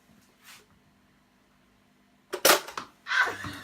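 A Nerf-style toy gun for dogs fires in short bursts, with a sharp pop near 2.4 seconds followed by a quick second crack and then a broader whooshing burst, all close by after near silence.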